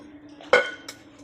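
Dishes, pots and pans being washed: one loud metallic clatter followed by a lighter clink, close by over a faint background hum.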